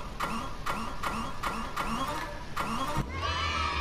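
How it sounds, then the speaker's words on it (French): A motorcycle engine in the video game The Crew cranking with a run of regular starter pulses, then catching and settling into a low idle rumble. "On va démarrer la moto."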